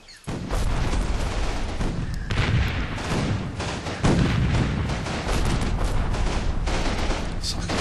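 Booming artillery fire in the war game Combat Mission, a dense continuous barrage of heavy blasts and crackling gunfire rolling on for several seconds at loud, steady level.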